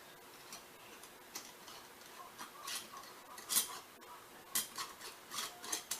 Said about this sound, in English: Put my ring on, finger on the lid, Make sure that it catches.